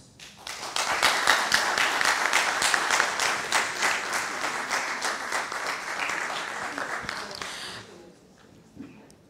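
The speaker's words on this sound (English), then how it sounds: "Let us give her a very big round of applause." Sustained audience applause, many hands clapping in a dense roar for several seconds before fading out abruptly near the end.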